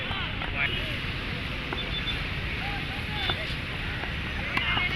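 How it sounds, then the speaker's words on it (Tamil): Strong wind sweeps across a local Ambattur Premier League cricket ground, a steady broadband roar buffeting the microphone throughout, with faint distant voices and thin whistles underneath. "ஸோ லெக்கில் செம்ம காற்று இந்த எண்டுக்கு."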